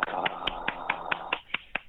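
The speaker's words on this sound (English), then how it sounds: "He was clapping at me." A single person clapping hands over a phone call, about ten sharp, evenly spaced claps, thin and fairly faint, with no talk over them.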